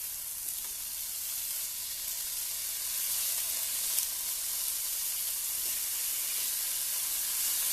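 Pork chop searing in a pan on medium-high heat, a steady loud broadband sizzle and crackle of frying meat that holds constant and swells slightly partway through, with no talking.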